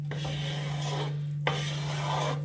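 Gumbo with beef stock and beef sausage being stirred in a pot, giving a steady rasping scrape over a constant low hum, with a brief clack midway.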